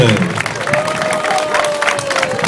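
Crowd applause and clapping at a half marathon awards ceremony around Lake Żywiec, steady and moderately loud, with someone speaking over a public address system throughout.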